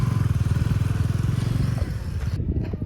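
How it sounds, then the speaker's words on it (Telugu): A motorcycle engine, after a hard struggle to start, runs with a close, rapid, loud thumping idle that shifts and settles near the end. "బైక్ స్టార్ట్ అయినందుకు ఎన్ని కష్టాలు చూడండి"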